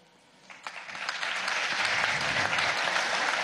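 Applause from an audience at the closing of an international summit against fascism, starting with a few scattered claps and swelling quickly into loud, sustained, dense clapping that fills the hall.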